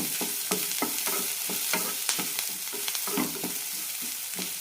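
Chilies roast in a pan for Palakkad-style tomato chutney, a continuous sizzle with rapid, rhythmic spatula scrapes and taps close by and no talk.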